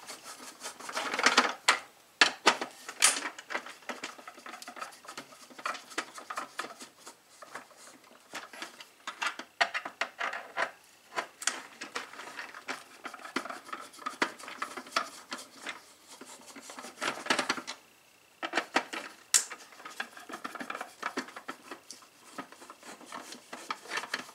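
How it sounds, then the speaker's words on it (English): Screws are worked loose from the plate of a Hayward pool vacuum, giving scattered close clicks, scrapes and rubbing handling noises in irregular bursts with brief pauses, no talk. "this plate that we're taking off now there's four screws"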